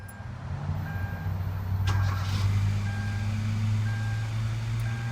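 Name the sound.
Kia Rio engine starting after spark plug replacement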